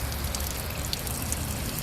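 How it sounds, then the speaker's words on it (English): A garden hose sprays water to rinse out a spark plug boot on a 250EX motorcycle under restoration, giving a steady, close splashing rush that runs unbroken throughout. "Rinsed it out with a hose."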